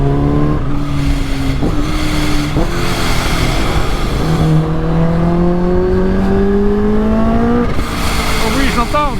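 Steady wind roar buffets a rider on a 280 hp Kawasaki H2 motorcycle, loud and continuous, with the engine's rising and falling tones and turbo revs running beneath it.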